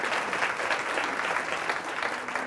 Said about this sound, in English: So Alpha Kappa Alpha members, give yourselves a round of applause.